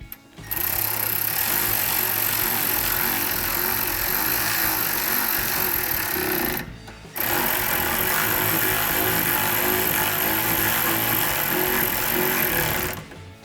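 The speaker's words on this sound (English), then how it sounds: "I'll just throw my ratchet on the back of that" A power ratchet buzzes continuously while tightening bolts on a running board fitted to a 2019-2024 RAM 1500 truck. Two long, loud, close bursts are split by a short pause, with no talk.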